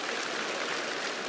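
Sustained applause from a studio audience at a comedy show, a dense, steady wash of many hands clapping at once, fairly close and even in level throughout, with no talk over it.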